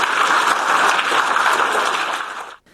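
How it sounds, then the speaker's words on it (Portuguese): A large crowd of European Parliament members gives Zelensky a standing ovation in the chamber, with dense, continuous, loud clapping that is cut off abruptly near the end. "Após seu discurso, Zelensky foi aplaudido de pé pelos eurodeputados."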